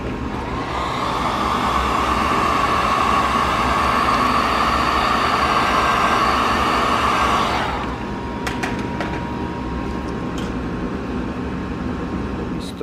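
A heat gun blows a loud, steady roar with a hot-air whine for about seven seconds while warming plasti dip on a 2020 Dodge Charger Hellcat Widebody, then cuts out, leaving quieter background hum and a few light clicks.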